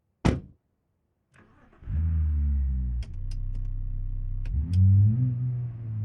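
An ETK Sport Plus sedan in BeamNG.drive starts up with a short cranking burst, then settles into a steady, fairly loud idle. A few sharp clicks sound over the engine, and it rises briefly as the revs climb near the end.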